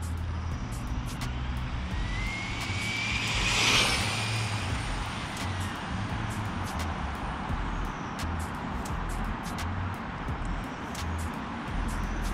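Project Volcano, a vehicle on a run toward 100 mph, rolls past on a warm-up pass with a steady roar of engine and road noise that swells briefly as it nears, then holds.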